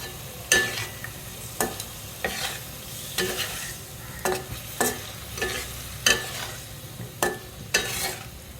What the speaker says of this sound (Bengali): আমার মশলাটা কষানো হয়ে গেছে এখন মাছগুলো দিয়ে দেবো